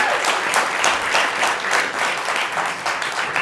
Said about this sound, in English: You can applaud for her if you'd like.